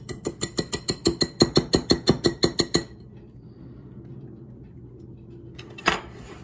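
Rapid metal-on-bowl clinking of a whisk beating dry ingredients for air fryer beignets, about twenty quick even strokes loud and close, then stopping into quiet room noise with one faint clatter near the end.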